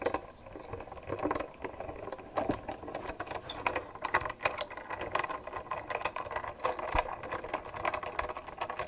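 A Spellbinders die-cutting machine being cranked by hand, giving a steady mechanical ratcheting and clicking of gears with rattly taps throughout, fairly close and moderately quiet, with no talking.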